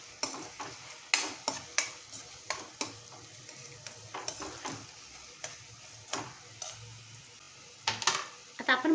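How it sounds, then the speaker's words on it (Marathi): A spoon scrapes and clicks repeatedly against a pan while onion and tomato are stirred, the irregular close taps sounding over a faint sizzle. "मध्ये मध्ये ना आपण असं ढवळत राहायचं म्हणजे खाली भाजी चिकटणार नाही"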